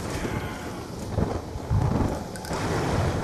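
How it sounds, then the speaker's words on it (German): A thunderstorm in Black Ops 2 Tranzit, with steady heavy rain hiss and low rolling thunder rumbles swelling in bursts, fairly loud and continuous, no voices. "Dieses scheiß Gewitter ist auch so laut."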